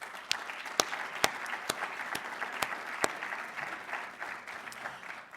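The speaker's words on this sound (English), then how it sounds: "This, too, deserves a round of applause." A college audience claps at a State of the College address, a sustained round of applause from a crowd with a few sharp, close individual claps standing out over the steady patter.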